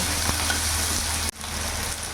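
Diced potatoes and chopped onion fry in a pan with a steady, close sizzle, briefly cut by a sharp drop before the hiss resumes; no talking.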